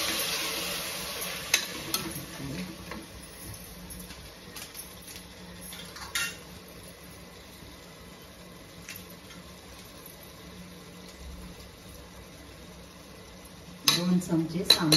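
Vegetables with spinach and tamarind pulp sautéing and stirred in a pan make a low, steady sizzle, with a few utensil clinks and a louder clatter of stirring near the end.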